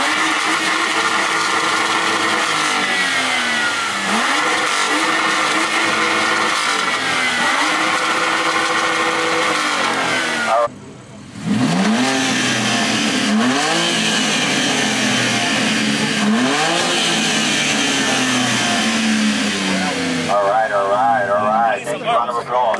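A BMW with full bolt-on upgrades and a performance exhaust, revved hard several times at a BMW enthusiast meet. Loud rising and falling engine sweeps come close together, with crowd chatter and a voice underneath.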